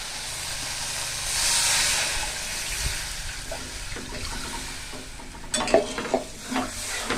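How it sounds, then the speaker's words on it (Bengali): Masala paste for a rohu fish curry fries in a pan, giving a steady, close hiss and sizzle. Scraping stir strokes grow busier toward the end, and no one speaks. "মশলাটা কষা হয়ে গেল।"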